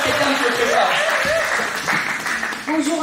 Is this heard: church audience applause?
yes